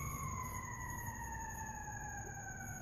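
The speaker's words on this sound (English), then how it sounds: "there goes a fire siren going by" A fire engine siren wails steadily in the distance, its faint sustained tones drifting slowly in pitch as the truck passes by, alone over low background rumble.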